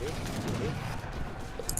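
Portuguese mortar fire in Age of Empires III, a dense volley of booms and cracks running steadily under a player's talk.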